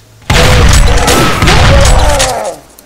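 Gunfire in the Doom remake game, a dense burst of heavy booming blasts packed close together, very loud and up front, fading out at the end.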